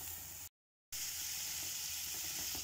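Potatoes dropped into a hot frying pan give a steady, loud sizzle that runs throughout, broken by one short silent gap near the start. No one speaks.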